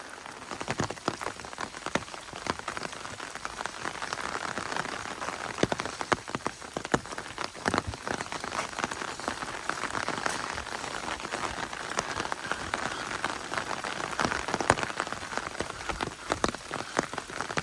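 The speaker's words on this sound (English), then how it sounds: "So the rain's actually lightened off a bit now." Light rain patters on a trekking umbrella, a dense, even crackle of small drops with occasional sharper taps, steady and close throughout with no voices.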